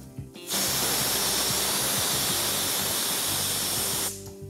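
A loud, continuous hiss of steam bursts from a pressure cooker whistle for several seconds, then cuts off abruptly, with faint kitchen sounds before and after.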